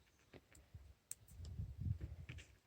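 Goji berry plant cutting snipped with shears: one faint, sharp snip in a quiet setting, followed by soft low handling rustles.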